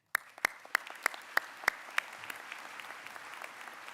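Audience applause at a medical school white coat ceremony: a burst of sharp, evenly spaced claps up front settling into a steady wash of clapping from a crowd, with no talk over it.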